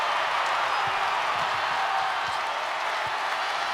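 Fans at an Iowa Hawkeyes vs Iowa State Cyclones women's basketball game roar and applaud in a dense, continuous wash of noise that stays loud and even throughout.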